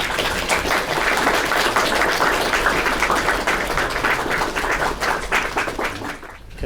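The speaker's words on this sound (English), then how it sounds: "please give him a big round of applause" Audience applause rises to welcome Rinpoche in a university hall, a dense, sustained patter of many hands clapping at even strength before thinning out at the close.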